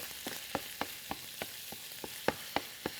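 Onion pieces browning in a hot pan, a steady crackling sizzle punctuated by sharp spits and pops that come roughly every quarter second, close and fairly quiet with no voices.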